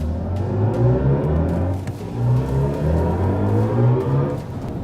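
A BMW i5 M60 electric car accelerates with a smooth rising electric whir and road rumble, swelling in two surges up close, without talk.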